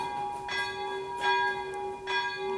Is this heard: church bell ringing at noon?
yes